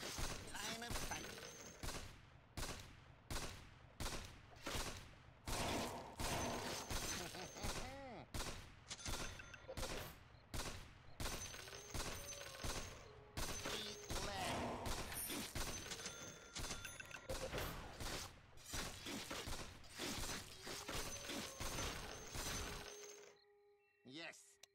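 Dense, rapid gunfire from a Dota 2 arcade game rattles on almost without pause for over twenty seconds, with shattering impacts and effects layered in and voices talking underneath, before cutting off abruptly.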